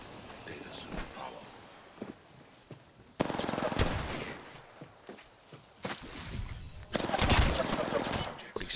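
Bursts of automatic gunfire and single shots ring out in a shooter video game, loud rattling volleys separated by quieter stretches with footsteps, while players chat over the action.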